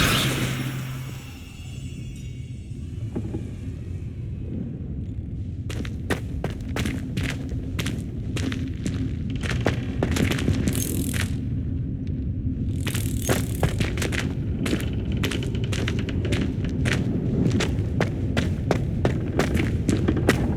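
Spell effects in Hogwarts Legacy: rapid whooshes, bursts and thuds from Accio, Incendio and Leviosa casts come in quick irregular clusters over a steady loud rumble of background sound.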